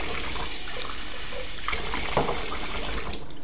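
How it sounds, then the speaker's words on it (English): Water pours steadily into a bowl for a cat, a continuous close splashing trickle with no break and no talking. "just getting my cat some water"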